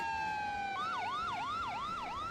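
Fire engine siren in the Emergency 4 video game with a Los Angeles mod, a steady wail that switches abruptly into a rapid up-down yelp cycling about every third of a second, fairly loud and alone.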